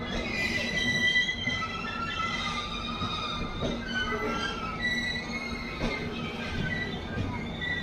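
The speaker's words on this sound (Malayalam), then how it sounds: "പാഴ്സലിന് വേണ്ടി മാത്രം ട്രെയിനാണ്" A freight train carrying only parcels rolls past on a line heading toward Goa, a steady close rumble of wagons with high squealing wheel tones and clanks running throughout.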